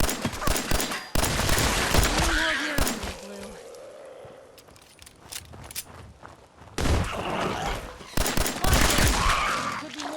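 Bursts of rapid gunfire from the video game Fallout 4, loud volleys at the start and end with a quieter gap between, a voice speaking briefly over the shooting.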